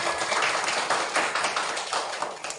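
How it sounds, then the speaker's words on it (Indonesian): A classroom of students clapping their hands in applause, a dense burst of quick overlapping claps at close range lasting a couple of seconds, no talk. "tepuk tangan buat kita semua"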